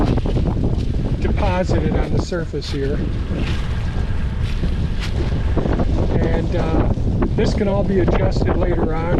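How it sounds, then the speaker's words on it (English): Heavy wind buffets the microphone throughout, a constant low roar under someone talking close by, outdoors at a muddy pond excavation site. "Sorry about the wind."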